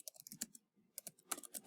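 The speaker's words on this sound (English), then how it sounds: "So you essentially press enter one time, get yourself off of caps, and start typing about the origins here." Keystrokes on a computer keyboard in bursts of quick taps, a brief pause, then another run of typing, close and fairly quiet with no voices.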